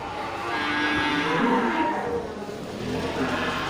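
A Simmental cross cow at a cattle market in Aceh gives loud, close, drawn-out moos that rise and fade over ambient market noise.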